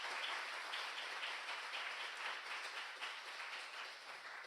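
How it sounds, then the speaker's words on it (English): Audience applause for a fireside-chat panel: a continuous, dense patter of many hands clapping at an even level for over four seconds, heard from somewhat back in the room. "Round of applause for our amazing panel."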